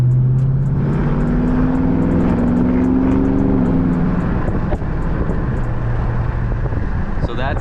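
A Dodge Charger 392 Scat Pack V8 in eco mode drones steadily, its tone climbing under light throttle and then easing back, heard loud and close from inside the car.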